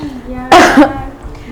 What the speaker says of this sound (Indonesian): saya ini lagi batuk-batuk